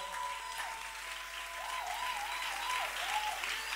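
A church congregation applauding and acclaiming God, a dense steady wash of clapping with mixed voices calling out beneath it, sustained for the whole stretch.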